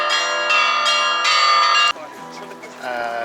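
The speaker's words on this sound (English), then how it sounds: "These bells are being rang manually." Church bells rung by hand at St. Michael's Cathedral on Easter Day peal loudly with bright, ringing overlapping strikes that sustain and shift in pitch.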